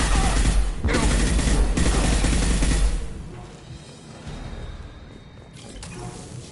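Gunfire in the Mass Effect 2 video game: a loud, dense burst of rapid shots crashing over the first three seconds, then a quieter stretch of scattered mechanical noise and distant shots.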